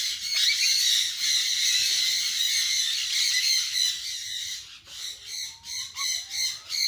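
A bird squawks loudly and continuously, shrill repeated calls near and alone with no talk, breaking at the end into a series of shorter rising squawks.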